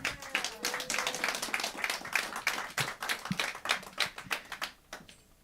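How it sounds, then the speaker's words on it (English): Applause from an audience at a storytelling evening, heard as a thinning patter of separate claps, fairly close and moderately loud, with a few voices murmuring underneath before the clapping tapers off. "let's give a round of applause for Lee Porteous and get the show started."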